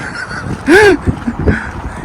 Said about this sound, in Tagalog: Kaya puro hunin ng ibon po dito.